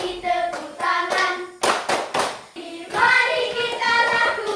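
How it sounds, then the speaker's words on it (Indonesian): Children clap their hands along to a sung action song, several loud bursts of rhythmic clapping in quick groups, with singing voices between and over the claps. "Kalau kau suka hati tepuk tangan."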